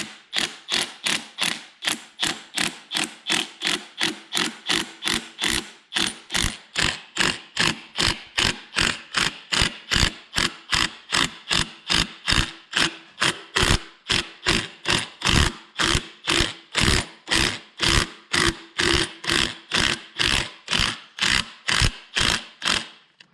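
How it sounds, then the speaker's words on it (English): A wrench ratchets steadily on a Ford 6.4 Powerstroke diesel during up-pipe and cab removal work, producing a long run of rapid, evenly spaced clicks close up and loud, with no talking. "you're supposed to do it with the wrench"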